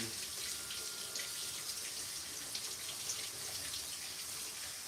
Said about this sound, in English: before I serve her, I'm gonna wash this real quick